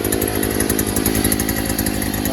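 A gas-powered earth auger engine runs loud and close, holding a steady, buzzing two-stroke drone with no talking over it.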